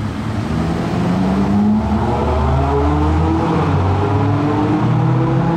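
A modified luxury car accelerates with a loud, close engine note that climbs in pitch through successive rising sweeps, like gear changes. No one speaks.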